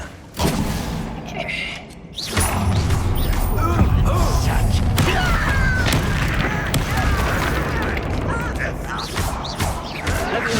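Confringo spell blasts in the video game Hogwarts Legacy burst amid dense combat noise, a sharp boom followed by a long rumbling, crackling wash, with spoken voices among the action.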